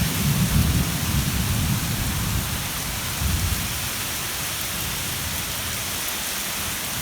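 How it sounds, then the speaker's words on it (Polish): Heavy rain pours down steadily while low thunder rumbles during a tropical thunderstorm on Holbox Island, Mexico, strongest at the start and fading into a constant downpour. "Burza, burza w tropikach."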